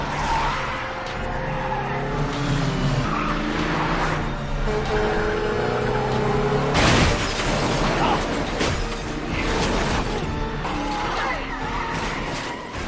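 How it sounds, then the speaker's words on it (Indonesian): Cars roar and race in a film chase, tires squealing and skidding, engines loud and continuous, ending in a sudden burst of harsher noise as one car crashes. "Terjadilah kejar-kejaran sampai akhirnya mobil yang membawa Costa mengalami kecelakaan."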